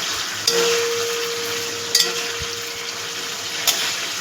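Chicken balls frying in a pan over a medium gas flame give a steady close sizzle throughout, with a few sharp clinks and scrapes as they are turned.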